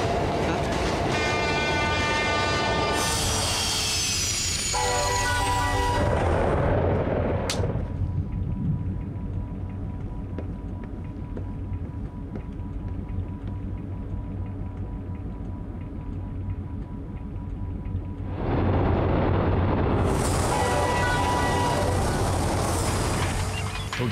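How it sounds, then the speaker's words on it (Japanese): The DenLiner time train from Kamen Rider Den-O sounds a loud horn and rushes past with rolling rail clatter, settles into a quieter steady rumble, then returns with another bright horn and surge. "時の列車ベンライナー、次の駅は過去か未来か。"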